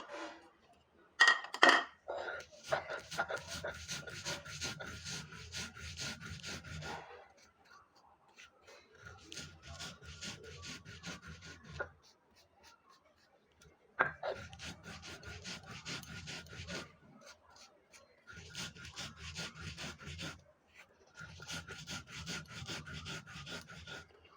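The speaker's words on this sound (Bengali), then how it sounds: "প্রথমে আমি কালো জিরাটা বেটে নিব" Black cumin (kalojira) ground by hand on a grinding stone: close, rhythmic rasping scrapes in bursts of several seconds, with brief pauses between rounds of strokes.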